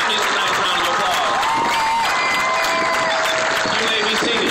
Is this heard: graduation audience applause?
yes